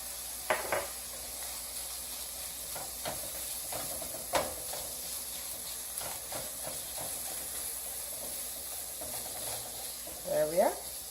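A spice paste with green chili frying in a pot while being stirred: a soft steady sizzle and hiss with occasional scraping knocks of the spoon, plus a brief voice near the end.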